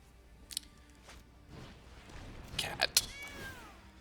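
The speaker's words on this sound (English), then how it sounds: "Cat." A cat meows a couple of times close by, a short wavering cry near the end after a few faint thumps and rustles.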